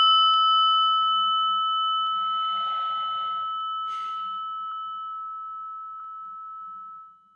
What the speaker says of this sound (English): what I do is I ring a little prayer bell here